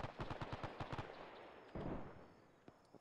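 Rapid gunfire in the video game Arma 3 during a military simulation battle at Henderson Field, a quick string of sharp shots followed by a heavier single blast and fading echo, fairly faint.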